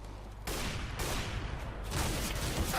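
Gunfire in Counter-Strike: Global Offensive comes as sustained, loud bursts of rapid shots, close and continuous, with almost no gaps across the stretch.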